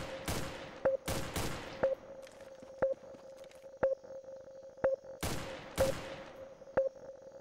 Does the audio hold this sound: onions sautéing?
no